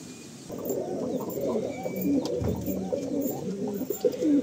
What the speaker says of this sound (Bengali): এটা আকাশ পুকুরির পায়রা